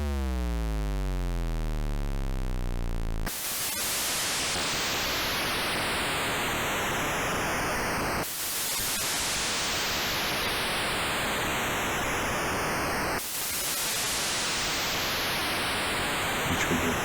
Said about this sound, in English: Okay, AY sound chip test. And then we should hear some sound.